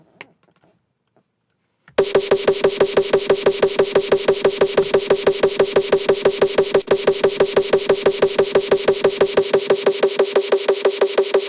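A hardcore kick drum, pitched up seven semitones, pounds in a fast steady four-on-the-floor loop after a brief silence, each hit loud and punchy with a strong distorted tonal body, alone with no voices.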